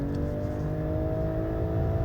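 BMW M440i engine revving hard under acceleration while held in manual second gear with paddle shifters, a loud steady rising drone from inside the car.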